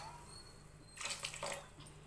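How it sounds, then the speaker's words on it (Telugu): Water splashes briefly into a pot of mango dal set for pressure cooking, a quiet half-second pour followed by a small trailing splash in an otherwise still kitchen. "ఇప్పుడు కొంచెం వాటర్ పోసి"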